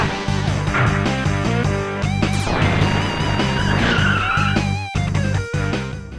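Racing cars from the video game Rock'n'Roll Racing roar and skid, engines buzzing over a pounding rock soundtrack with sharp tire squeals sliding up and down in pitch, loud and busy throughout.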